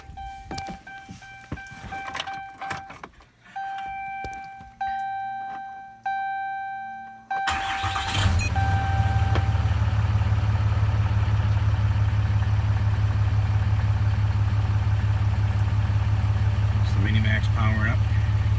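A 2012 Ram pickup truck with a 4-inch exhaust: chimes and ding-dong alerts sound first, then the engine cranks and catches at once into a loud, steady, deep idle that holds to the end, close to the microphone.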